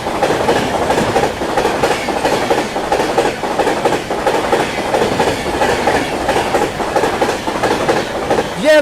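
The Patna Tejas Rajdhani Express, a New Delhi to Rajendra Nagar Terminal service, roars past at speed with loud, continuous rumbling and rhythmic clickety-clack of wheels over rail joints, ending in a brief high squeal.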